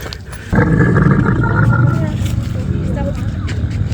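A camel in the Moroccan desert lets out loud, deep guttural grunts and roaring groans up close, continuing with rough growling sounds after an abrupt start.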